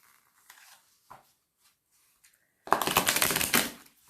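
Oracle cards shuffled by hand, a few soft isolated riffles and taps, then a loud dense burst of close, crackly card shuffling lasting about a second and a half.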